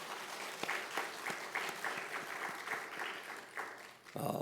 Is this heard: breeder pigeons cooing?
no